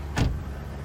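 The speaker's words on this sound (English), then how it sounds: "She closed her car door and then drove off without answering anything." A car door shuts with a single dull thump near the start, followed by a low engine rumble as the car pulls away from the spot.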